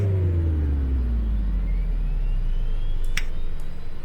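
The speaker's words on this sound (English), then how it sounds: "So again, the fuel lever on the start position. And let's start the left engine." The left engine of a Saab 340A turboprop starts up in the X-Plane 11 flight simulator: a loud, steady low rumble with a whining tone that slowly glides, plus a couple of brief clicks near the end.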